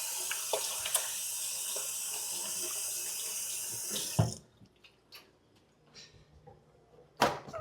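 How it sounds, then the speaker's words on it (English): Tap water runs steadily and loudly into a kitchen sink during handwashing before baking banana nut bread, then cuts off at about four seconds, leaving a few faint clicks and a light knock. "So first thing we're gonna do, wash our hands."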